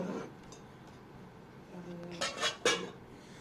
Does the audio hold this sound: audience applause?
no